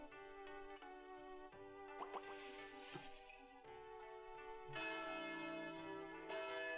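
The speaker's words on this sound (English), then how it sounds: "let's all ring the bell of blessings for Kita" Chiming bell tones of the bell of blessings rung at a wedding in the Story of Seasons farming game, repeated bright strikes with ringing overtones over soft background music, faint overall.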